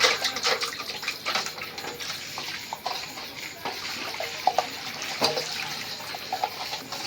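Water pours steadily into a batch of flour for dough, roughly two to two and a half litres for two kilos of flour, with splashing and sloshing close to the microphone, continuous and fairly loud.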